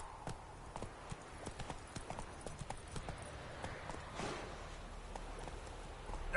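Roach, a horse in The Witcher 3, walks with a quiet, regular clip-clop of hooves, each step sounding as a faint, distinct knock at a steady pace.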